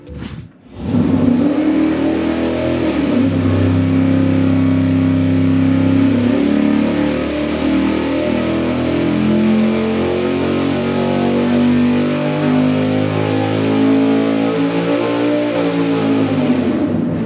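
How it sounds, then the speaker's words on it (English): A big-block V8 fitted with a Brodix intake manifold runs on an engine dyno, firing up and then holding a loud, steady, droning roar for about sixteen seconds with no voices over it. "let's fire it up and run the Brodix intake manifold."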